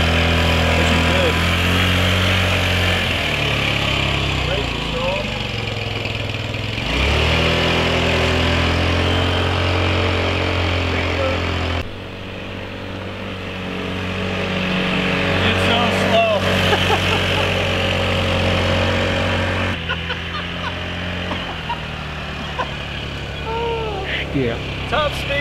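A Metropolitan scooter engine runs steadily at a low, quiet hum close by, holding a constant drone throughout with slight shifts in pitch.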